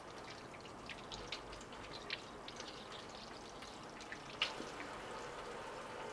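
A faucet runs while hands are washed at a sink, giving a soft, steady trickle with scattered light drips and splashes. No one speaks.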